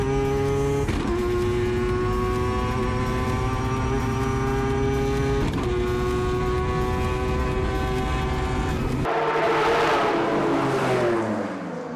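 A race car screams through a fast lap, its engine note climbing through gears with sharp shift breaks, then a loud whooshing pass as it sweeps by close and fades away.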